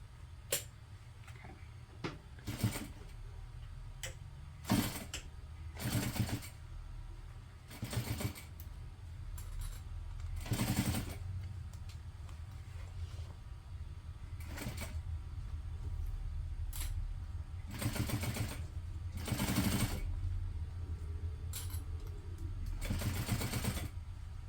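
A sewing machine runs in short, irregular bursts of rapid stitching, stopping and starting over a low steady background hum.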